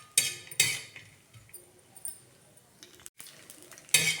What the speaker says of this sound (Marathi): किती पटकन खोबरं भाजायला लागलेलं आहे.